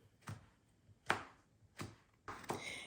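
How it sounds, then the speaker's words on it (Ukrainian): Knife slicing fresh hot chili pepper into fine rings on a board, four crisp, separate chops spaced roughly evenly, close and fairly quiet. "Ну, я буду додавати свіжий зараз сезон і буду так нарізати його міленько."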